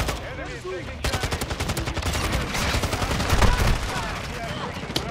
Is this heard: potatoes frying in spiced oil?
no